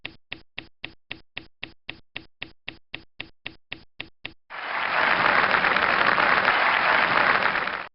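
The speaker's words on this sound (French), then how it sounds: "corrigeons notre erreur et recevons nos applaudissements." A burst of loud clapping and applause fills the last few seconds, preceded by a rapid, evenly spaced series of sharp snaps or taps.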